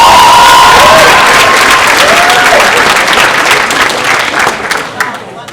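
Loud, dense applause from an audience at an opening ceremony fills the room from the start, then slowly fades as it ends, and a voice can be heard over it.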